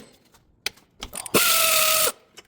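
A socket ratchet working the alternator bolts on a 2008–2010 Ford F350 6.4 Powerstroke: a few metallic clanks, then a loud, close burst of rapid mechanical clicking lasting under a second.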